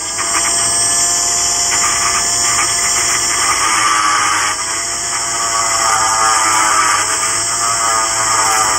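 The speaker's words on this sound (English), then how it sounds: "Hit it with the Dremel again." Dremel rotary tool grinding at pinball switch contacts, a steady loud high-pitched whine with gritty, rasping texture that runs continuously and closely throughout, no voices.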